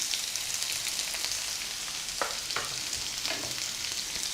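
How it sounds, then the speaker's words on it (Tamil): Tomatoes and chili sautéing in a hot pan give a steady, close sizzle, with a few brief scraping stirs partway through. "மிளகாய் ரெண்டுமே போட்டு நல்லா வதக்கணும்"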